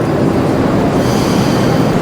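A Moscow metro train rumbles loudly and continuously, a dense roaring wash of wheel and car noise with no voices.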